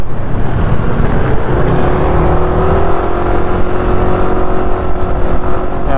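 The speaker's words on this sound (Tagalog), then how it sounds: "Grabe traffic, oh." Steady road traffic with a continuous engine drone and the rumble of passing cars, heard up close and loud, with no clear pauses.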